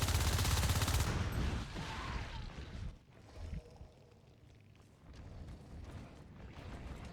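Rifles fire in Natural Selection 2 as a dense, loud burst of rapid shots up front, then fades to quieter scuffling before the firing swells again.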